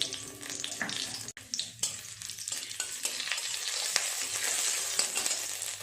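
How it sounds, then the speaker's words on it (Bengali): Two dried red chillies, a bay leaf and whole cumin hit hot oil in a kadai for a masoor dal tempering, crackling and sizzling up close with a few sharp clatters from the pan and spoon. "ফোড়নে দেবো দুটো শুকনো লঙ্কা, তেজপাতা আর গোটা জিরে।"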